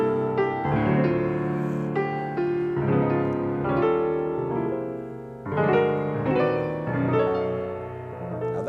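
The Fair Harvard melody is played chromatically on piano, with sliding, densely altered harmonies in a flowing sequence of sustained chords and phrases, clear and alone without speech.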